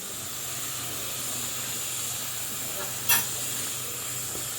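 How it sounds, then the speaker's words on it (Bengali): Onion sautéing in a pan, a steady soft sizzle and hiss running evenly throughout, with one brief sharper scrape or clink near the end, close by and with no voices. "পেঁয়াজটাকে একটুখানি নাড়ানাড়ি করছি সটে করছি"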